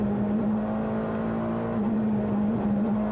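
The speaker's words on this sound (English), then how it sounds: "There's a sequential gear change." A Peugeot 405 Mi16 touring car races at Ledenon in the 1994 French Supertouring finale. Its steady, loud engine drone is broken by a few quick dips and recoveries as sequential gears are snapped through.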